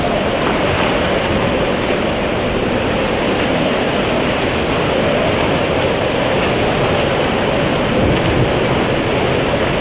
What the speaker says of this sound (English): this wind is intense.